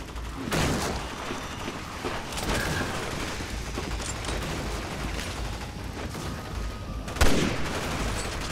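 Rapid bursts of gunfire from the video game Resident Evil 6, a few sharp loud shots standing out over a steady stream of weaker shooting and clatter.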